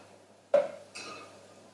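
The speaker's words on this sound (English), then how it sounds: "kind of pack it down with a spoon" Spoon pressing celeriac, squash and prosciutto stuffing down into a squash: two soft scraping taps about half a second apart, fairly close and quiet, with no talking.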